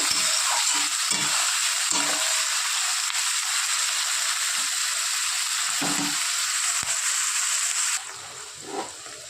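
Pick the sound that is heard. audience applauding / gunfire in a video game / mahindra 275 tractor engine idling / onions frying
onions frying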